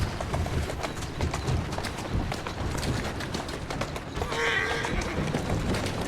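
Horse hooves trotting along Victorian London streets in Assassin's Creed Syndicate: a steady, fairly loud clip-clop rhythm runs throughout, with a brief whinny partway through amid carriage and ambient game noise.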